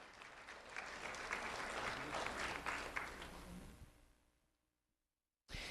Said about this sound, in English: Let's have a round of applause for Haley Gill.